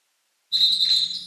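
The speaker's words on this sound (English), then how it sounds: "And ourselves a whistle." A single sharp referee's whistle blast at a women's college basketball game starts abruptly and holds steady for nearly a second, loud and close after a moment of silence.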